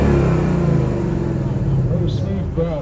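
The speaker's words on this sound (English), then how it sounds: "just letting it warm up just before he gives it a good rev" A Ford Mustang V8 engine idles with a deep, steady rumble and then revs, loud and close throughout, with a brief higher whine near the end; talk is mixed in.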